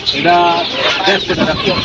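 Bahama-breed chickens cluck loudly and close by at a village market stall, a quick run of clipped, nasal calls over about two seconds, with a person's voice mixed in.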